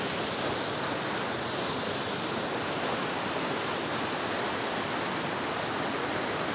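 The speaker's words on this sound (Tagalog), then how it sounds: "Lakas ng tubig ngayon." Strong rushing water at Paniguian Falls in Nasugbu, a steady broadband roar of heavy flow that stays loud and unchanging throughout with no voices.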